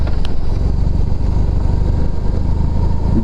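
A BMW R18 motorcycle cruising along a long South African road trip route, its engine a steady low rumble with rushing wind noise, close and constant.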